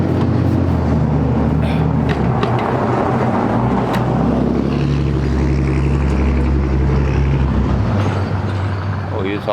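A truck hauling a big tractor rolls past on a quiet Main Street, its loud, deep engine rumble and road noise filling the whole stretch close by.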